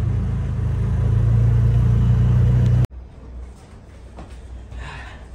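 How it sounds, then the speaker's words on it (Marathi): An auto rickshaw engine runs loud and close with a steady low rumble and drone, then cuts abruptly to a quieter stretch of road noise and faint background sounds. "रिक्षा घेऊन चाललोय मस्त आहे की."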